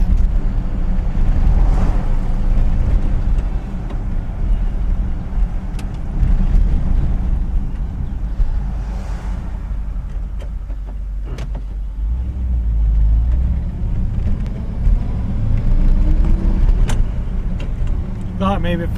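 A 1959 Chevrolet Bel Air rolls along a rough road, its steady low engine and road rumble continuing throughout with occasional bumps and rattles, heard from inside the car while someone talks over it.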